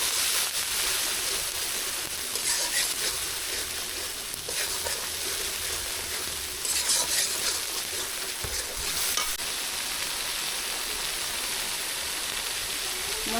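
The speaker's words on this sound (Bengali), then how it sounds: "এবার মশলাটা ভালো করে কষানো হবে।" A spice paste with turmeric and salt is stirred and fried in a pan for a Bengali sarputi fish dish, a steady close sizzle broken by repeated scraping strokes of the stirring spoon.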